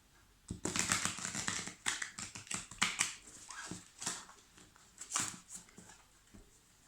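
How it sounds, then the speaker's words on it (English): Tarot cards being shuffled by hand, a close run of rapid papery clicks and riffling bursts that come in uneven waves with short pauses. "Sometimes they take a while to fall when I'm shuffling"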